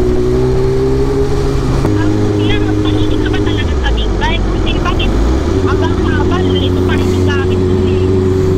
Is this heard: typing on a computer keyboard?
no